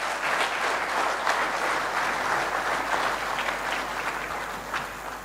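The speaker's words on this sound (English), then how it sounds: "You have clapped" A lecture audience claps continuously, a dense, even wash of many hands throughout, with no voices over it.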